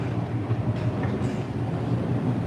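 Amtrak Lincoln River Runner passenger train rolling along the rails, a steady loud rumble from inside the car with faint rhythmic wheel clatter and no talking.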